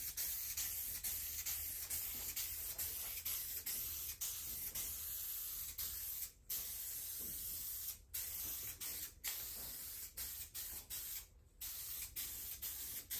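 SEM Landau vinyl paint sprayed from an aerosol can onto interior parts of a black-interior conversion on a Foxbody Mustang, a steady close hiss running in long bursts broken by several brief pauses.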